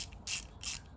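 Ratchet wrench tightening bolts during Subaru Legacy Outback engine assembly, two quick bursts of clicking pawl, close and fairly quiet.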